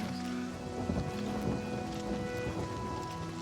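Steady rain with low rumbling thunder in the video game The Elder Scrolls IV: Oblivion Remastered, a dense wash of rainfall under a soft distant roll, with no talk.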